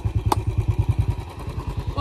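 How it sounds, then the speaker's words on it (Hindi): A Royal Enfield Bullet 350 motorcycle climbs an off-road slope, its single-cylinder engine thumping in a steady, loud, close rhythm of rapid pulses with one brief clatter. "ऑफ रोडिंग कर रहा अक्षय ने चढ़ा दी ऊपर मोटरसाइकिल"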